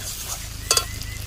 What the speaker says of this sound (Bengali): এক মিনিটের মতন আমি ভেজে নেব কাঁচা মশলা টমেটো দিয়ে